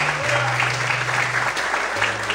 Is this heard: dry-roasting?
no